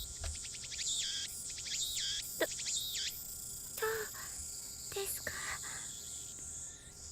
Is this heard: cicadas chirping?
yes